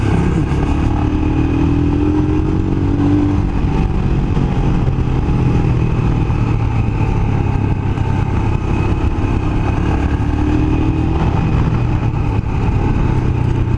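A Royal Enfield motorcycle engine rumbles loudly and continuously on a mountain road, its pitch sliding down as it slows under engine braking from about 80, with wind noise throughout.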